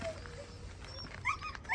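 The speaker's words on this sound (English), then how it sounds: "here we have the pirate Husky" Husky sled dog at a sled-dog kennel in Hammerfest, Norway, giving faint high whimpers and short yips against quiet outdoor background noise, fairly distant and soft.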